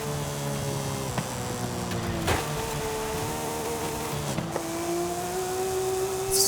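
Porsche 911 engine in Forza Horizon 5 revving toward a near 10,000 RPM redline, a raspy rising whine with a gear shift midway, loud and close, ending on a sustained high-pitched scream.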